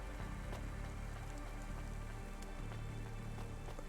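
Steady rain pours down in the rainy noir city streets of the video game Cloudpunk, a dense continuous hiss of drops spattering on surfaces with low ambient hum beneath, no voices.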